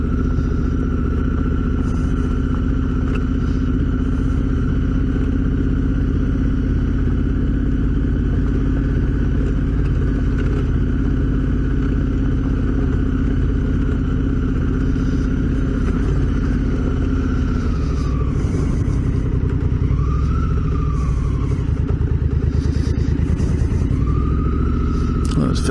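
Honda Africa Twin motorcycle cruising at steady speed along a coastal road near Land's End in southern Australia, a continuous loud engine drone and rumble with wind noise and a brief pitch swell late on.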